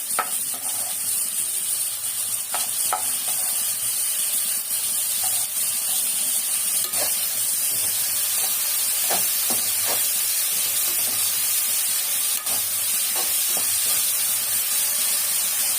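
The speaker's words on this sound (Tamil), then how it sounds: "வெங்காயம் தக்காளி நல்லா வதங்கணும்." Onions and tomatoes, salted and with green chilli, frying in a pan give a loud, steady sizzle and hiss throughout, close up, with occasional faint stirring clicks.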